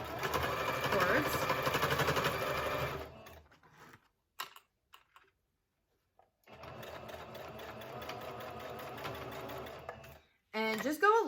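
A sewing machine runs a straight stitch across a half circle skirt in two steady, fast bursts of stitching separated by a pause of near silence, ending with a brief mechanical clatter.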